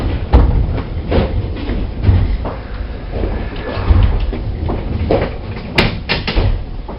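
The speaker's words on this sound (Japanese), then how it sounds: "ドアが開きます。" Doors slide open on a JR special rapid service train running between Tsuruga and Kyoto, heard inside the carriage over steady rumbling cabin noise, with clunks and brief hisses as the doors move.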